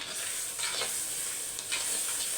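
Turkey berries with salt fry in a pan, giving a steady crackling sizzle broken by a couple of brief scraping stirs, with no one talking.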